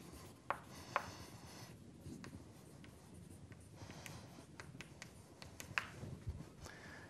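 Marker or chalk writing on a board during a math lesson, a quiet rubbing scratch with a few sharper taps and strokes spread over several seconds, with no talk.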